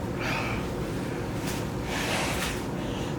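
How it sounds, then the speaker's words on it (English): A person blows their nose hard during a chiropractic nasal adjustment, giving repeated forceful snorting bursts of air amid steady background noise. "Blow your nose really hard."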